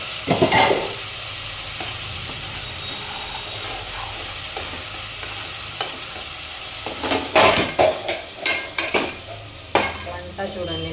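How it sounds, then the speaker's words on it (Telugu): Ginger garlic paste and masala fry in a pan for gongura, a low steady sizzle broken by sharp clanks and scrapes of a metal spoon against the pan, louder in bursts near the end. "అల్లం వెల్లుల్లి పేస్ట్ లైట్గా ఫ్రై అయిపోయింది"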